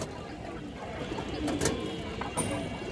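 A red khaki female pigeon gives soft, low coos over a steady background hiss. The bird sounds fairly close, with a couple of brighter accents near the end.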